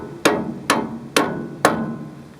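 Four sharp metallic hammer strikes ring out at an even, steady pace on a 1942 Chevrolet G506 truck's front axle, each with a brief ringing decay, close by with no talking.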